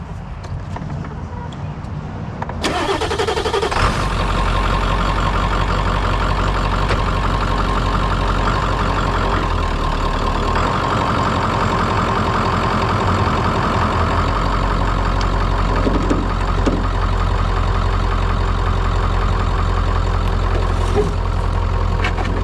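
A 1996 Ford F250 pickup with a 7.3 Powerstroke diesel, long abandoned, cranks and fires after a quiet start, then settles into a loud, steady, rattly diesel idle that runs on without a break.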